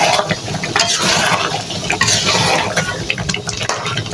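Chicken curry with potatoes is stirred and sautéed in a pan, giving continuous scraping and sizzling with occasional utensil knocks, fairly close and loud.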